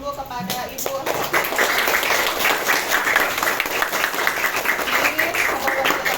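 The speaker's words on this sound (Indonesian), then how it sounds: "Oke, beri tepuk tangan dulu kepada Ibu." Classroom of children clapping for their teacher, a sustained burst of many small hands applauding together, close and lively, with a few voices at the start.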